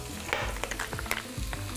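Onion sizzles in a frying pan, seasoned with sea salt, sugar and baking soda: a steady crackling hiss with scattered pops and the soft scrape of stirring, with no talking.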